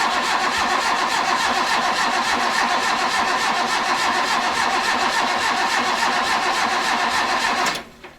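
A Magirus truck diesel engine cranks in freezing cold, a steady rhythmic churning of the starter for about seven seconds without catching, then it cuts off abruptly, leaving near silence.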